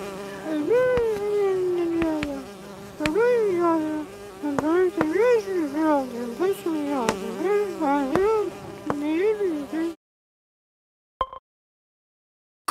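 Bees buzz close and clear in a cartoon scene, with wavering whines rising and falling in repeated bursts, then near silence near the end.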